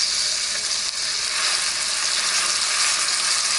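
Meat placed side down sizzles steadily in a hot pan, a loud, even frying hiss that holds for the whole stretch with no talk.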